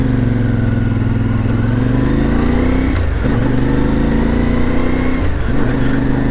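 IBEX 450 scooter engine with a 15-tooth sprocket, 283 miles on it, droning steadily while riding, with rising pitch under acceleration and two brief dips around shifts or throttle changes, loud and close throughout.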